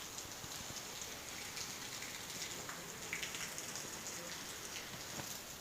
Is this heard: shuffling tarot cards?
no